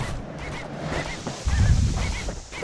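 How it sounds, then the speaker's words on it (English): In the video game Bastion, a flock of birds squawks and honks in a dense, busy chorus, loud and close, with a low rumbling wash of flapping beneath the calls. "Then the kid hears an unusual sound, like 100 flapping wings."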